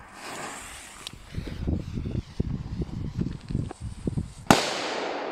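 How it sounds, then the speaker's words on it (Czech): A Megatřesk firecracker with a fuse goes off outdoors: after a stretch of rustling and footsteps close by, one sharp, loud bang cracks out near the end and rings briefly. "jdeme na test petardy Megatřesk"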